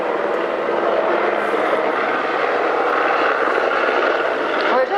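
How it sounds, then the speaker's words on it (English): A helicopter passes overhead above a large park, a loud steady rotor and engine roar that holds throughout the few seconds, with no voices over it. "Having a helicopter fly over"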